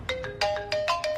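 A mobile phone ringtone plays alone, a bright electronic melody of short repeated tones in quick succession, close and fairly loud.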